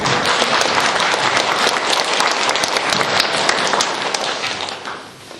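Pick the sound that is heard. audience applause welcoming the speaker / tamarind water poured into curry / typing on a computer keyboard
audience applause welcoming the speaker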